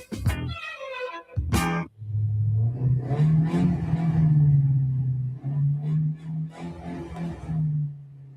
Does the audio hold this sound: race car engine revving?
yes